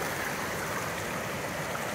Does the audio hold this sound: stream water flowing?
yes